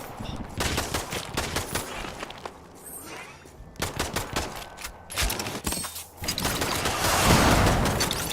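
Rapid bursts of gunfire from shooting in the video game Darklight Survivor, dense overlapping volleys rattling almost continuously with brief lulls, loud and close.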